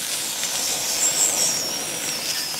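A homemade thermic lance built from spaghetti burns and melts metal, giving a steady, bright hiss with a faint whistling tone that wavers for a couple of seconds, close and fairly loud.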